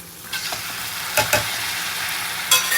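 Tomatoes are tipped into onions frying in a pan, giving a steady sizzle broken by a few sharp clatters and stirring knocks, close by and without talk.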